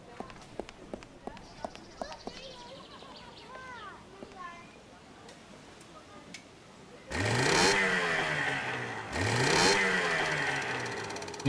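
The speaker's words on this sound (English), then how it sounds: "The engine works." An engine in the adventure game Secret Files 2: Puritas Cordis starts after a quiet stretch of talk, then roars loudly in two long, sweeping bursts.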